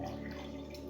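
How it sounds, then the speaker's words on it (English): Water poured from a bottle of Vatra into a glass, a soft, steady liquid trickle heard up close and fairly quiet for about a second, alone with no voices. "And I pour it in here."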